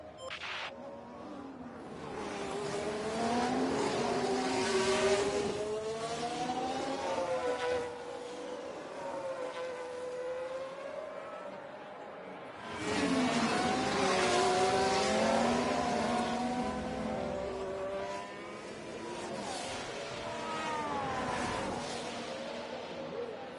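Formula 1 cars racing at Shanghai in F1 Manager 24, with engines howling and rising in pitch through repeated acceleration runs, swelling and fading as cars pass. A voice speaks in places.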